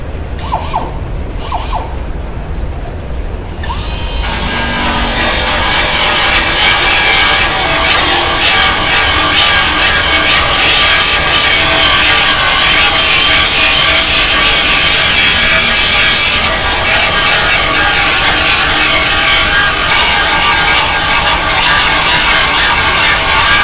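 A belt file sanding the box side of a Ford F-150, a loud continuous abrasive grinding whine that starts after a few seconds of quieter background and runs steadily to the end, close up, with no talking.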